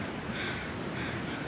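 Crows cawing in the survival video game The Long Dark, heard high on a windy mountain; harsh calls come over a steady broadband wind bed that fills the whole moment, with no voices.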